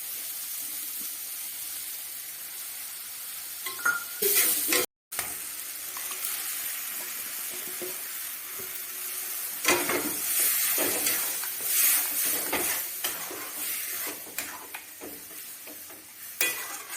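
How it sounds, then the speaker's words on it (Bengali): Chilli, turmeric, cumin and coriander powder being sautéed for dal makhani, a steady frying sizzle with repeated stirring scrapes and pan knocks, briefly cut out partway, then louder clatter later on. "একটু কষে নিই, তারপরে এটা দেবো"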